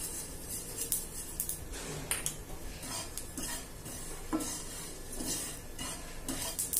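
Spices and sesame seeds roast in a pan over a low flame, a spoon scraping and stirring in quiet, irregular strokes with faint sizzling and no talk.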